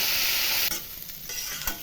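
Loud hissing sizzle of jackfruit frying in a pan, dropping suddenly as stirring begins, with faint scraping noises after.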